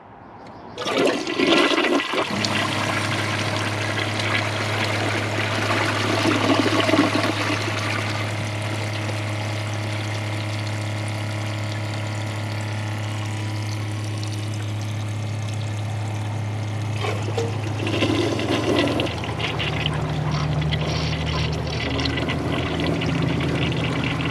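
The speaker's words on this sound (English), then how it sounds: "Let's give both of these a flush and see which one you like better." A Kohler Wellworth toilet flushes loudly and close by, an initial rush of water swirling down into a long steady refill hiss with a low pump-like hum that runs on for over twenty seconds.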